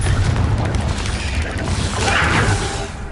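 Confringo blasting curse explosion in the video game Hogwarts Legacy: a loud, rumbling boom with a deep low-end roar, swelling again midway with crackling debris-like texture.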